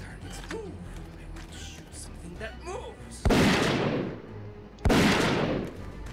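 Gunshots in the video game Zeno Clash: two sharp, loud blasts about a second and a half apart, each with a short rumbling tail, following faint clicks and creaks.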